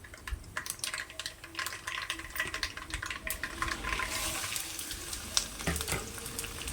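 Mustard seeds, dry red chillies, garlic, chana dal and cumin frying in hot oil, a steady crackling sizzle with scattered pops and occasional stirring scrapes, close and fairly quiet, with no talk.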